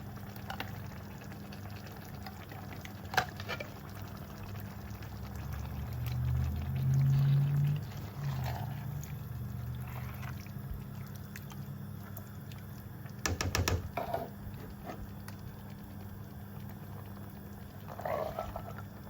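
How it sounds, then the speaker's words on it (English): Canned kidney beans and black-eyed peas tip into a cooking pot with a thick, wet glugging pour that swells midway. A quiet low hum sits underneath, and a few small clinks follow. "I'm going to add 2 cans of beans"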